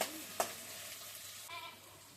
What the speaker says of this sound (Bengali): এবার শুটকি মাছগুলোকে পেঁয়াজের সাথে ভেজে নিতে হবে।